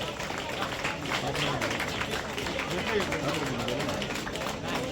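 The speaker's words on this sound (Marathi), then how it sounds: "पाचवी ते सातवी नवव्या पाटील जोरदार टाळ्या झाल्या पाहिजेत" Prize winners at a Run for Unity event organized by police get a steady, dense patter of applause from a crowd throughout, with an announcer speaking over it.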